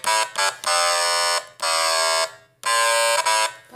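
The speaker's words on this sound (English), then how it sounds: "So the thing about the stylophone is, like, you could accidentally push another note." Stylophone playing a simple tune as a run of buzzy, reedy electronic notes in separate loud bursts with short gaps, one note faltering, played alone with no talking.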